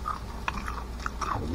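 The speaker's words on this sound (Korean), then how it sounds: "바삭 소리 들리대." Biting into a crispy pan-fried pancake of shredded purple potato, several short crunchy bites and chewing sounds close up, steady and fairly quiet, no talking.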